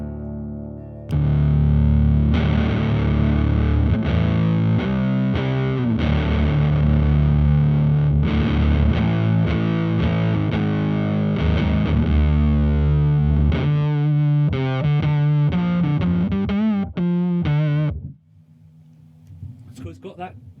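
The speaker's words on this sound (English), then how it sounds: "So let's have a listen to the fuzz in isolation." Electric guitar through a Snarling Dogs Bootzilla fuzz wah pedal, set with low frequency and medium intensity, giving a thick, saturated vintage-style fuzz tone with chords and riffs played continuously for about seventeen seconds before fading out.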